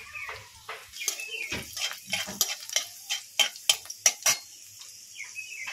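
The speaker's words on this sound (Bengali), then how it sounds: "কড়া বসিয়ে আমি এখানে সাদা তেল দিয়ে দিয়েছি" Green chillies frying in white oil in a wok for potato samosa filling: faint sizzling under a run of close, sharp scrapes and clinks from stirring, with no talking.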